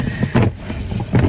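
Automatic car wash with brushless cloth flaps running, producing a whooshing, slapping rumble that swells in two surges, heard from inside a car over steady low noise.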